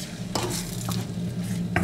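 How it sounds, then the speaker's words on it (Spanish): A spoon stirs scrambled eggs with spinach and prawns in a pan over medium heat, scraping against the pan over a steady soft sizzle, close and fairly loud. "Y le hemos puesto un fuego medio. Y removemos bien."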